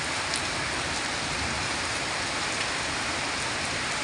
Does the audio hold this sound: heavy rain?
yes